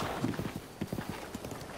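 Hoofbeats of a horse galloping in The Legend of Zelda: Breath of the Wild, a quick uneven clip-clop rhythm of hooves at moderate loudness, fairly close, with no talk over it.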